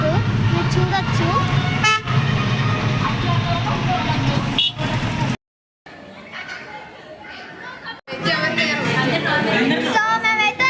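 Busy city street traffic with repeated car horn toots and engine noise, people chattering and talking throughout, with a brief dropout midway before the honking and crowd noise resume.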